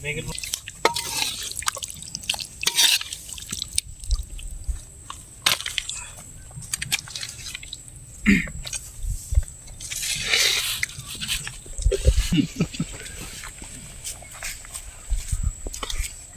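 People eating chicken with dal outdoors at a birthday cookout, with close, irregular chewing, crunching and wet biting sounds scattered across the whole stretch.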